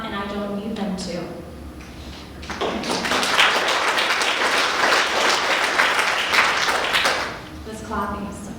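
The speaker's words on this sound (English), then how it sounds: "This clapping is so easy." Audience clapping at a church service, a dense burst that swells in after a voice talks and sustains for several seconds before fading as speech resumes over it.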